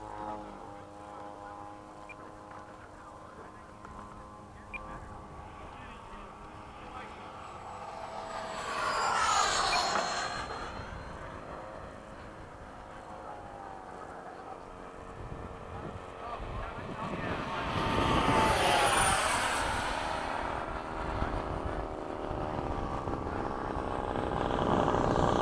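An FMS 70mm F/A-18 RC jet makes two distinct swelling passes, its ducted fan whining and roaring louder as it lands and then climbs away again, with a faint background hum and occasional wind noise.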